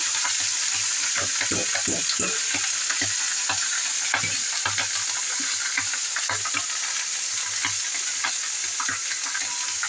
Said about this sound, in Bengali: লাউটা একটু অল্প নুন দিয়ে কষাবার মতন করে করবো।